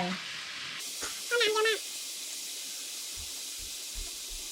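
Mushrooms dry-frying in a pan, cooked down to drive off their water before butter goes in: a steady quiet sizzle and hiss runs throughout, with a brief clink of utensil near the start and a few soft low bumps later.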